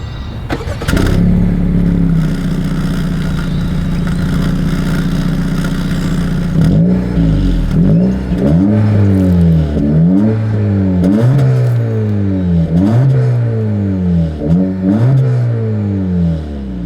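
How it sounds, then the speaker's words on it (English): A 2025 Acura Integra engine idles with a rumbling exhaust, then revs repeatedly in rising and falling surges, loud and close. "As always, here is that exhaust clip."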